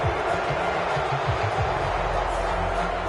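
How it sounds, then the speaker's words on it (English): A stadium crowd in an American football video game murmurs and roars in disapproval as a broad, steady wash of noise, with a commentator talking over it. "Well, the crowd doesn't like that."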